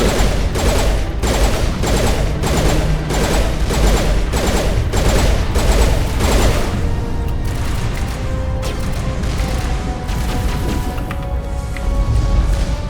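Gunfire in the Mass Effect video game as Wrex attacks a turret: loud, evenly spaced bursts of heavy shots give way to a dense, continuous barrage of blasts and crashes.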